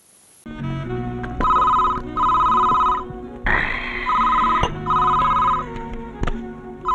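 A telephone rings in a series of repeated trilling bursts, loud and close, layered over a busy background of music and clatter with no speech.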